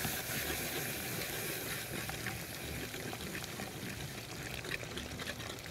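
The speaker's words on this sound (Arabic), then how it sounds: "اقوم نازله بالكريمه وممكن لبن" Cream being poured into a pan of garlic sauce gives a soft, faint continuous trickle and gentle liquid hiss, with no voices.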